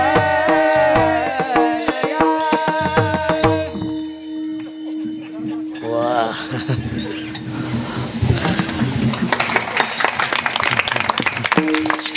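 At an Akshaya Tritiya kirtan, the audience claps along amid music and metallic clinks. The clapping grows denser and more forceful in the second half, with sharp overlapping claps close by.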